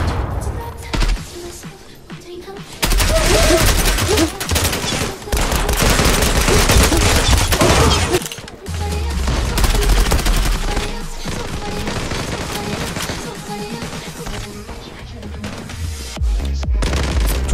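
Rapid automatic gunfire from the Turkish-made Zula-Fateh rifle in the Zula shooter on the New Tehran map, loud sustained bursts with brief pauses and heavy booms, while someone talks over the action.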